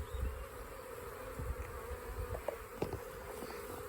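A swarm of honey bees hums steadily at the hive, a dense continuous buzz close to the microphone, broken by a few soft knocks and rustles.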